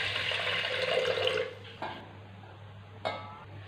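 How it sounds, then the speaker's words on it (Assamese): Rice is washed in water at a kitchen sink, with a close, steady splashing and swishing that fades after about a second and a half, followed by a couple of brief clinks of a pot or utensil. "এয়া চাউল ধুই আছোঁ"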